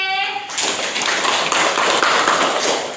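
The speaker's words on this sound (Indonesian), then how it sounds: "Tepuk tangan untuk kelompok E" A class of fifth-grade pupils claps for a group presentation in a classroom, a brief burst of brisk, loud applause following a short spoken phrase.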